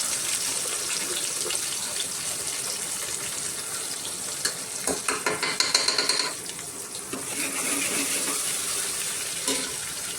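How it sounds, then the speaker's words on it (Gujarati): Green chillies and curry leaves sizzle and crackle as they are stirred in hot oil in a home kitchen, a steady hissing fry with a brief burst of sharper scraping and spattering midway. "જીયા તું જો ને લીલા મરચાં નાખી દઉં"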